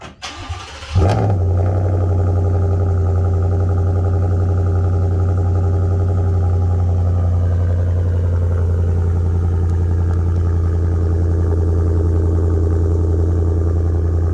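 A Ford F-150 5.0 V8 with an aftermarket catback exhaust fires up and settles into a loud, deep, steady idle with a throaty exhaust rumble that holds for the rest of the clip.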